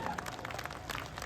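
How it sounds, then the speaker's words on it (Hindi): An audience applauds at a Holi poetry gathering, a brief, steady patter of many hands clapping, heard at moderate distance and fairly quiet, with some voices mixed in. "ताली वाली बजाओ भाई साहब जरा सा।"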